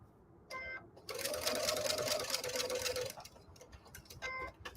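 A sewing machine stitches snowball quilt blocks: a steady whirring run of about two seconds, with short mechanical bursts and ticks before and after it, close and alone.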